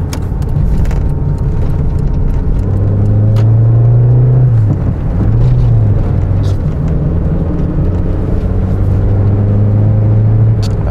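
A car with a blowing crankcase breather accelerates along a road, its engine note rising, dipping briefly at a gear change, then climbing again, loud and close, with faint interior rattles.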